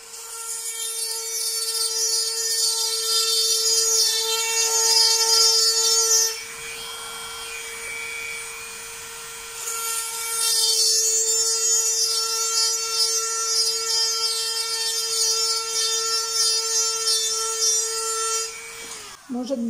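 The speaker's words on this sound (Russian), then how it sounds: "Сверлится, идет потихонечку" A drill bores slowly into stone with a loud, sustained whine and grinding rasp that eases for a few seconds mid-way, then resumes until it stops.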